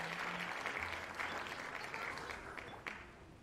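A livestream audience gives a burst of applause, fairly faint and sustained with scattered claps, a voice briefly heard beneath it.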